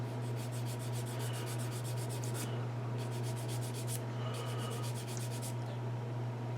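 Sandpaper rubs on a piece of wood in three bursts of rapid, rhythmic back-and-forth strokes, close up, over a constant low hum.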